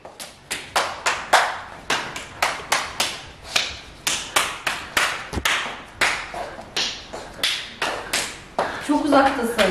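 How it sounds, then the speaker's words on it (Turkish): A child claps hands in a steady series of sharp, close claps, about two or three per second, continuing throughout with brief pauses, while adults talk in Turkish in the background. "Alkış yap."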